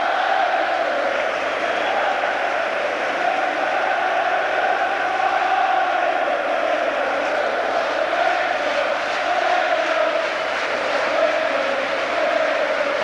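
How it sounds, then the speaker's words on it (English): A Wembley stadium crowd applauds the England team at a Euro 96 semi-final against Germany, a dense, continuous roar of claps and cheers heard from a distance. "Right to the last, they stand to applaud them."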